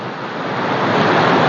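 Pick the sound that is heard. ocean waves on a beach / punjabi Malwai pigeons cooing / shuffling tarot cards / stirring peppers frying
ocean waves on a beach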